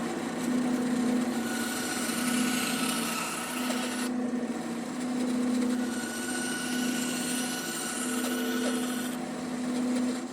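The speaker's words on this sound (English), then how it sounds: "back at the bandsaw, I can use the blade as a file, pulling the workpiece back towards me at a slight angle" Bandsaw blade used as a file, shaving thin slivers of wood from the sides of a slot cut, with the saw motor humming steadily and rhythmic rasping strokes in repeated passes, close and moderately loud, no talking.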